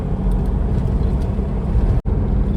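A Toyota Innova drives along a road from Mumbai toward the Konkan, its engine and tyre rumble a loud, steady drone from inside the car, broken by one very brief dropout near the end.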